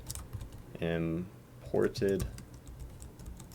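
Rapid typing on a computer keyboard, light clicks running steadily in the background while a person briefly speaks over them.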